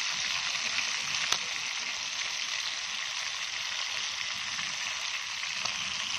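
Food fries in a pan with a dense, steady sizzle that holds evenly throughout, close and fairly loud, with a couple of faint clicks.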